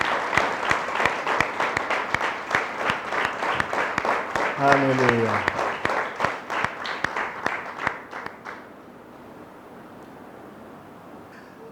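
A church congregation at a Sunday service claps loudly and rhythmically while a voice calls out over it. The clapping stops abruptly near the end, leaving quiet room tone.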